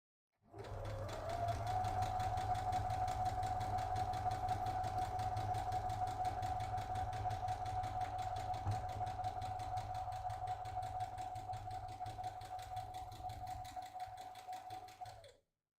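Sewing machine stitching a drawstring project bag, one continuous steady mechanical whir with a rapid needle rhythm, close and fairly quiet, stopping cleanly at the end.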